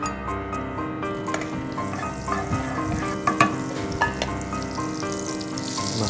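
Mushrooms going into a pan of hot oil and butter with crisp dried chillies, giving a steady loud sizzle and crackle with occasional stirring clatter, up close and without speech.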